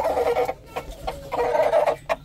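Black silkie chickens clucking up close during feeding, a run of short repeated clucks and calls in uneven bursts with brief pauses between them.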